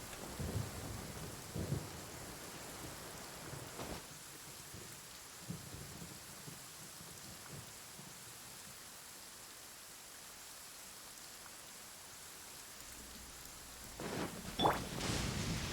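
Rain and rolling thunder in the game Genshin Impact: a soft, constant wash of rainfall with several low, distant thunder rumbles, growing louder near the end, and no talk.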